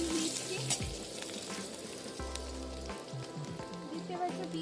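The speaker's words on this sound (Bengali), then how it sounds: "দিয়ে দিচ্ছি পেঁয়াজ কুচি" Chopped onion frying in oil over lowered heat for egg curry, a soft steady sizzle with a couple of clinks and stirring sounds, fairly quiet.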